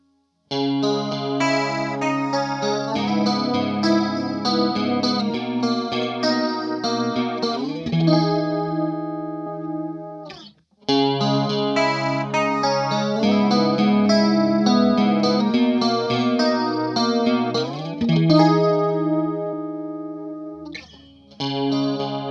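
Electric guitar chords and arpeggios played twice through Boss chorus pedals such as the CH-1, CE-5, CE-2w and DC-2w, a shimmering, wavering modulated tone, loud and close, with a brief pause between the two matching passages.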